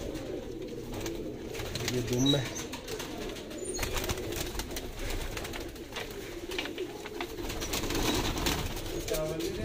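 Sialkoti pigeons of the 35 type coo low and steadily in the background while someone talks over them throughout, with occasional rustling and handling noises.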